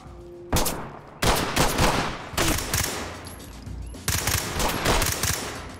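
Gunfire in the tactical shooter Ready or Not comes in several sharp bursts of rapid automatic shots, close and loud, separated by short pauses.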